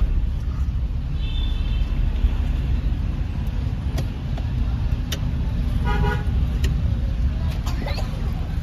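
Car driving on rough village roads with background engine and road noise, short horn toots sounding near the start and several more later, aimed at a rickshaw ahead.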